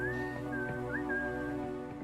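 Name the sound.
character whistling in Space Haven video game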